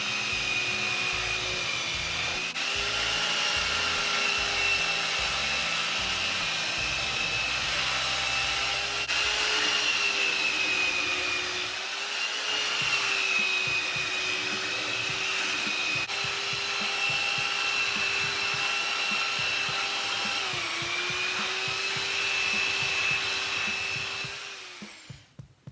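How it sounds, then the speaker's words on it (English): Belt sander fitted with 36 grit belt rounding the end corners of a wooden bench board, a loud, steady high whine with rough grinding that runs for about twenty-five seconds, dips slightly in pitch under load, then spins down. "The belt sander, it's got 36 grit on it. I'm using it to break the corners on the end so they don't have that factory type edge."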